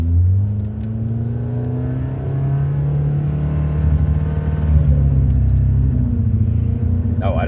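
A car's engine revs hard as the driver floors the accelerator during a test drive with an O2 sensor fault and misfires, rising in pitch with a loud, close roar that holds for several seconds.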